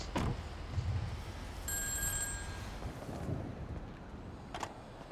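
A phone rings in GTA 5 with a brief electronic trill, fairly faint over car engine rumble and ambient street noise, followed later by a short sharp click, with no talking.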